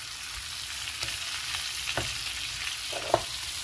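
A bone-in New York steak crusted with herbs sears in a hot pan, giving a steady close sizzle and crackle with a few louder pops and spits along the way.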